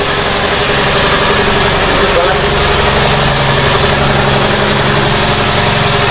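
A ship's engine room on a boat voyage to Papua fills with a loud, steady engine drone. The low rumble holds constant throughout without changing pace.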